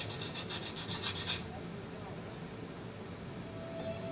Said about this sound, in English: now I'm just going to sand this for a while with some water